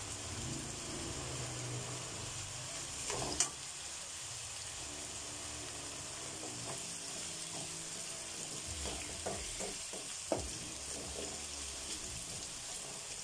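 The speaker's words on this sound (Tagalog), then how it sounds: "Pina-fried lang mo kasi ng konti ang carrot at saka ang patatas" Carrots and potatoes frying lightly in a pan with a soft, steady sizzle, punctuated by occasional clinks and scrapes of utensils, fairly faint throughout.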